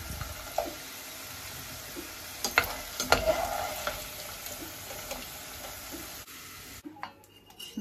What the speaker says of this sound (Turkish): patates kızartacağım